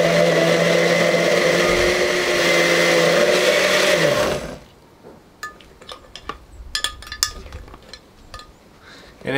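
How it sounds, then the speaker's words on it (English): A blender runs loud and steady for about four seconds, churning a mixture into a creamy ice-cream-like texture, then cuts off abruptly, followed by quiet clicks and light clatter of a spoon or lid. "you just keep blending and mixing"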